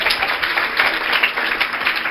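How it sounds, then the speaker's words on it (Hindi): Students in a 9th and 10th grade career counselling seminar audience break into dense, steady applause, many hands clapping together at fairly close range for the whole stretch without letting up. "एक बार इस बात के लिए ताली बजा लो।"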